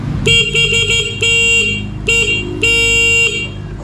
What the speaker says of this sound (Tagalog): umaandar na, bumubusina pa